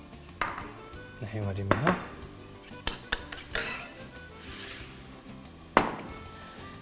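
A lid clanks onto a pan of cauliflower and onion frying, with scattered metallic knocks and clinks of cookware, close and fairly loud, and a voice speaking briefly.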